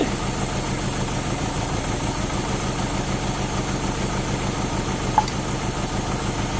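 A manual Euro-spec Mercedes 190E with a 2.0 engine runs rough on only a few cylinders, a steady low idling drone with a faint vibration and a single small tick near the end.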